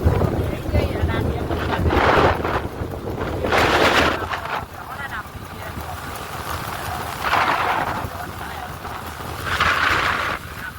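Steady rain falling outside a shop, a continuous broadband wash of patter with gusty swells of wind noise buffeting the microphone, fairly loud and unbroken.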